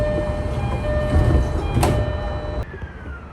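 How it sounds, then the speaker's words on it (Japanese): JR East local train doors slide shut at departure from a small station, a steady close hum of the idling train with a sharp slam near the end, then a quieter tail. "発車時刻となったら扉が閉まります。"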